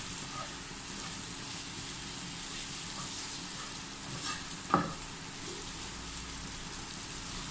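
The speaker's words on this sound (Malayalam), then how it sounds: "ഇനി ഇതിലേക്ക് നേരത്തെ തയ്യാറാക്കി വെച്ച സോസേജ് ചേർത്ത് മിക്സ് ചെയ്യാം." Sausages being stirred into a masala fry in a pan, with a soft continuous sizzle and one sharp spoon clink against the pan partway through, close but fairly quiet.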